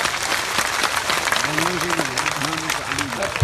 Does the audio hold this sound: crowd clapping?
yes